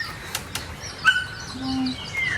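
Crow wings flapping nearby in a short burst of soft whooshing beats, with a few faint chirps and calls around them and no talking.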